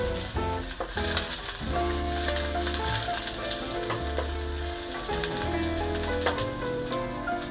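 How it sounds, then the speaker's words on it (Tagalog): Onion sautéing in a hot pan for a chicken dish, with a continuous loud sizzle and frying crackle broken by repeated utensil scrapes and clinks as it is stirred. "igigisa na natin ang ating sibuyas"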